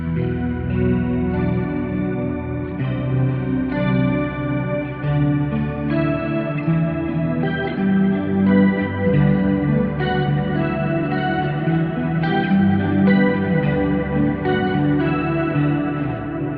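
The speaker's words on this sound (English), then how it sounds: "this halo delay style and natural reverb at high decay time to get this lush reverb sound" Electric guitar played through a Kemper Profiler with a halo-style delay and natural reverb at a long decay time, heard as sustained chords and notes that smear into a lush, echoing wash, alone without talk.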